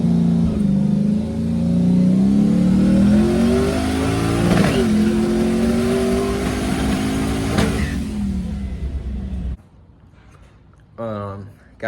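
Station wagon engine running during a ride, a steady mid-pitched hum whose pitch climbs and dips as it revs, close and loud, then cutting out near the end with a brief rev.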